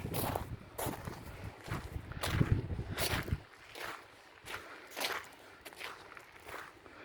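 Footsteps walking outside on snowy ground, a series of crunching steps at an uneven walking pace, close and clear, with a louder windy stretch early on and no talking.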